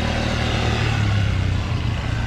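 Rental motorbike engine at Mandarmani beach, a steady close low rumble running throughout with a slight rise in pitch, loud and continuous with no speech over it.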